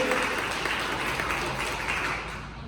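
A church congregation at a healing and deliverance service applauds in worship of Jesus, filling the room with steady, even clapping that eases slightly toward the end.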